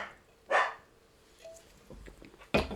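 A dog barks twice, short sharp single woofs a couple of seconds apart, moderately close in a quiet indoor room with faint background noise.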